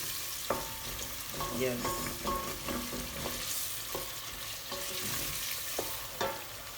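Salted beef sizzles in hot oil for oil rice while a utensil scrapes and clicks against the pan in irregular stirring strokes, close and moderately quiet, with one brief spoken word.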